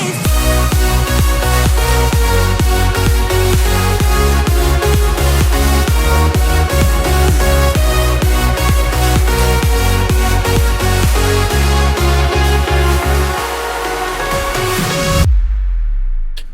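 A dense electronic dance track, a remake made in FL Studio, plays loudly with punchy driving beats and bright layered leads, thinning briefly near the end before cutting to near silence.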